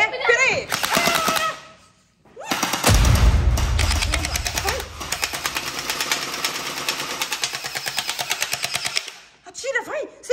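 A huge gun in a video game fires in long rapid bursts, loud rattling volleys with a deep boom near the start, while children talk excitedly over the action.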